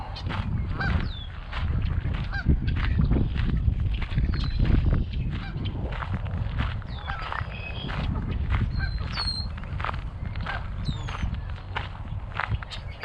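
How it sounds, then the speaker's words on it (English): Geese honking repeatedly at close to middle distance at a fishing spot in Alberta over a steady outdoor background, with footsteps crunching along underneath. "just got some geese here."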